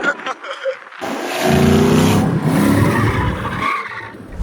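Ford Mustangs drifting on track, with loud, sustained tire squeal and skidding over engine roar, starting after a brief quieter moment and holding for several seconds close by.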